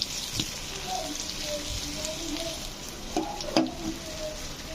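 Stuffed bitter gourd fries in a pan with a steady soft sizzle, broken by a few scraping stirs and knocks, close up, with no talk over it.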